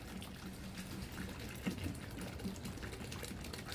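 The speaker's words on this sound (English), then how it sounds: "we'll fill it to cover with this vinegar." Vinegar being poured into a barrel packed with hot peppers, a steady soft trickling and splashing of liquid at close range with faint bubbling throughout.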